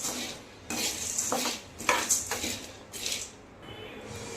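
Roasted gram (pottukadalai) is stirred in a pan, giving a few short scraping and clinking bursts of a spoon against metal, quiet and close, separated by brief pauses.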